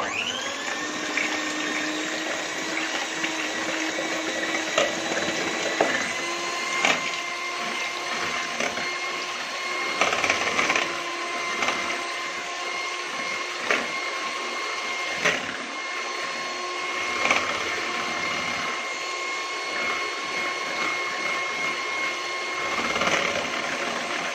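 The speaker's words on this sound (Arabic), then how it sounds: "انا جبت المضرب اهو هبتدي اضرب آه، البيض" A steady electric mixer whir runs throughout with a rattling, churning texture as it beats eggs for a strawberry cake, punctuated by occasional louder knocks.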